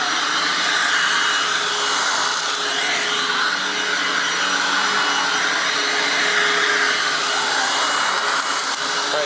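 A Hoover WindTunnel Anniversary Edition self-propelled upright vacuum (U6485900) runs its drive while cleaning carpet. It makes a loud, constant, close motor roar and airy whine with no break.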